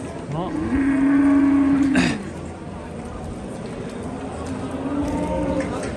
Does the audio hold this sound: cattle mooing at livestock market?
yes